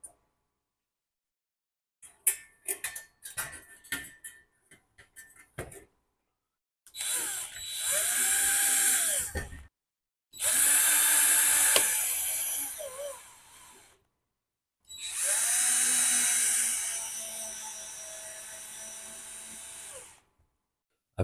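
Power drill driving drywall screws into a ceiling to mount a chandelier bracket, first a few short clicking bursts, then three sustained whining runs of a couple of seconds each separated by pauses, close and clear.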